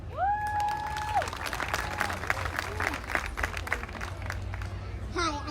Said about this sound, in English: we want to hear that applause up here